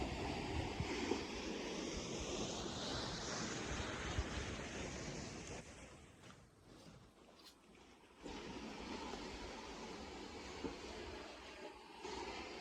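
Ocean surf on the North Shore of Oahu, heard from an oceanfront home at Mokuleia, makes a broad steady wash of waves with gusty noise and a brief lull midway, with no talking.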